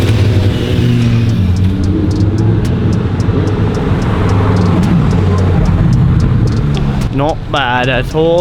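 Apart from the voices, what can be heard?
Lamborghini car engine revving and accelerating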